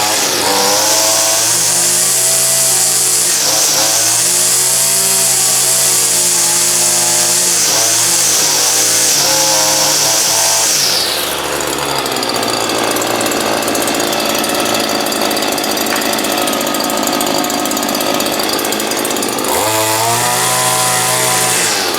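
Weed wacker string trimmer engines run loud and close after a cold start, revving and settling through changing pitches, with one engine note dropping partway before another returns; no talk.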